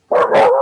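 A pet dog, a female, barks excitedly in one continuous burst of loud, close yaps and yelps with no pause, heard on its own without anyone speaking.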